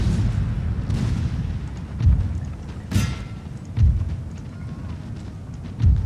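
Artillery and musket volleys from the Napoleonic video game 1805 European Campaign: four heavy booms land a second or two apart over a continuous rumbling battle din, with one sharper, crackling report among them.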